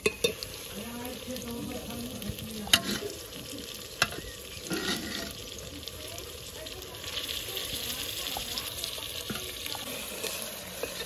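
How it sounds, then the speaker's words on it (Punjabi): Tadka tempering sizzling in a pan, a low continuous fry hiss with a few sharp clinks and taps of utensils, quiet and close, with faint background voices. "ਇਹ ਲੱਗ ਗਿਆ ਭਾਈ ਸਾਹਿਬ ਤੜਕਾ"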